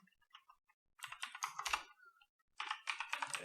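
Keys on a computer keyboard are tapped in two quick bursts separated by a short pause, close and fairly quiet in an otherwise silent room.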